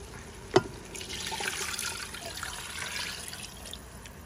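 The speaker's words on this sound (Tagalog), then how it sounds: "Then, lagyan na natin ng tubig." Water poured into a pot of chicken kabsa: a steady, faint splashing wash of liquid lasting several seconds, opening with a single sharp knock, no voices.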